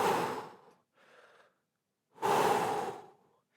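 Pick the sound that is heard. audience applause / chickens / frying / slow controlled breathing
slow controlled breathing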